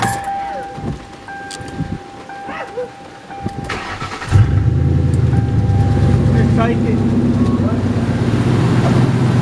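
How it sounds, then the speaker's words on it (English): A Lincoln Town Car engine idling after a tune-up, starting at around four seconds and then holding a steady, loud, smooth rumble, with someone speaking before it starts. "that motor sounds so happy"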